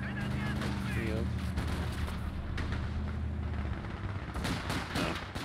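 Mortar fire during a multiplayer match on the La Gleize map, with heavy booming blasts and rumbling explosions layered with other gunfire, and a voice speaking over the din.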